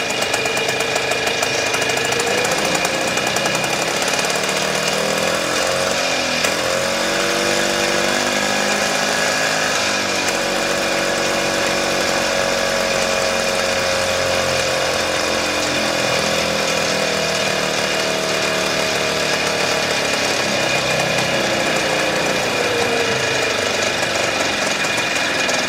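A restored 1971 Harley golf cart engine, choke fully out, revs up and down on the throttle for a sustained stretch, loud and close, the pitch climbing and then curving off with a rough, knocking mechanical roar.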